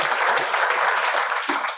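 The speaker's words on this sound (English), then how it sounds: "So let's give him a round of applause." An audience at a community affordable-housing event claps in a full, even burst of applause that holds steady, close and loud, tapering slightly at the end.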